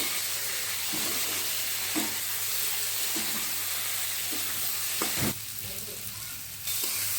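Spice masala sautéing in a hot pan gives a steady, close sizzle with occasional scrapes and clinks of stirring, plus a louder scrape near the end.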